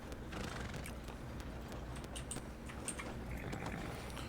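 Horse hooves clip-clopping in a Red Dead roleplay game with two riders sharing one horse, a quiet rhythmic patter of steps with occasional soft clinks, faint and steady, no talking.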